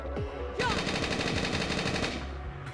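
Rapid bursts of automatic gunfire from an attack in the video game Lost Dimension rattle close and loud for a couple of seconds, with dense overlapping shots and effects layered over a low rumble.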